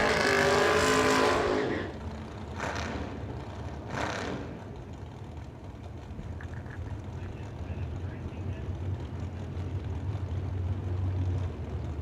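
A loud burst of drag racing engine noise opens the scene at a race track, then drops to a steady distant rumble with a couple of brief bursts and a low drone that builds toward the end.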